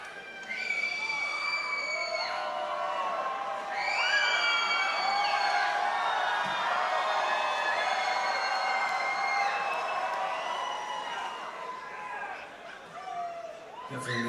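A concert crowd at a show at Guildhall in Portsmouth, England, screams and cheers loudly and continuously, with high-pitched whoops, fading slightly near the end.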